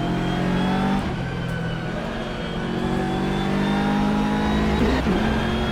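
A GT3 race car in rFactor 2 at Mugello revs steadily in 2nd gear, a loud continuous engine drone with rising and falling pitch throughout and a slight dip near the end.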